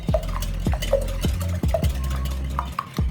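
Eggs for a basbousa cake batter are whisked in a bowl, with steady rhythmic strokes and light clinks of the utensil against the sides, close and continuous.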